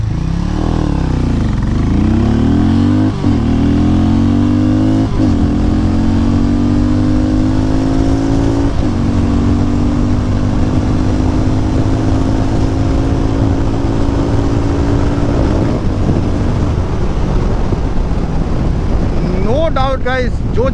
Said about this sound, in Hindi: चलो सो यहाँ से लॉन्च करते हैं 0 to 60 एंड 0 to 100।